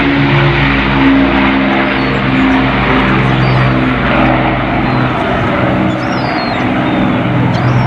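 Avro Lancaster bomber flying past at an air show, a loud, steady drone of piston engines with a throbbing propeller hum that holds strong throughout and eases slightly toward the end.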